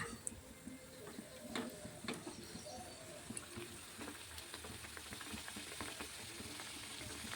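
Kajjikayalu, sweet dumplings filled with roasted gram and jaggery, frying in hot oil: a faint, steady sizzle with light ticking crackles, no talking.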